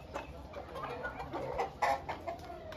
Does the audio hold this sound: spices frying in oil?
no